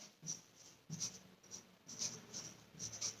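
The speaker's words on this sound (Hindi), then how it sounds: "अब देखिए एक उदाहरण और लिखती हूं" Chalk or pen writing out a Hindi example during a class: short scratchy strokes in irregular bursts, close and fairly quiet, with no talking over them.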